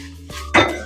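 Roasted pearl millet poured from a pan onto a plate, a brief rattling clatter of grains and metal building to one louder clink near the end.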